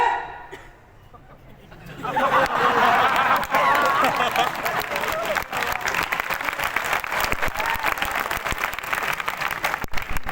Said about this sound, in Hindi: आप ताली क्यों पीटते हो मेरे भाई?